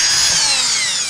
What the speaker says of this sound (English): You never want to drill all the holes at once.